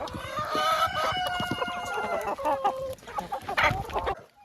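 Hens cluck busily as they are fed crumbly boiled potatoes, a dense overlapping chorus of several birds close by that carries steadily through the whole stretch, with no talking.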